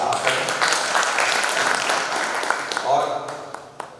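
An audience at a Hindi kavi sammelan (poetry recital) at Kalidas Academy, Ujjain, applauds in a sustained wash of clapping that thins toward the end, with a few louder claps near the close.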